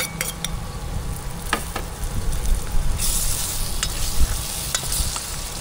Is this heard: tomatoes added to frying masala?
yes